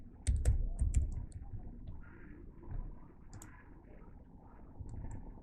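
Typing on a computer keyboard, soft close-up clicks and taps in a quick cluster at first, then sparser keystrokes over a faint background hum.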